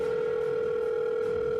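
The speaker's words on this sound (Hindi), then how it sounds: "डॉक्टर को तुरंत फोन किया।" Telephone dial tone: a steady, unbroken electronic hum of moderate loudness, heard alone with no voices.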